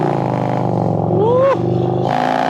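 A motorcycle fitted with a Tab Performance header and 50 cal exhaust drones at a steady, loud, close rumble with a brief rise in revs midway.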